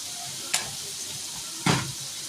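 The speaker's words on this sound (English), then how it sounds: "Give that a little stir." Potatoes frying in a pan get two quick stirs, short scraping bursts rising over a steady, quiet sizzle.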